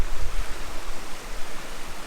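Waterfall in grey, overcast conditions: a dense, steady rush of broadband water noise with a low rumble underneath, continuous and fairly loud throughout the short stretch, no voices.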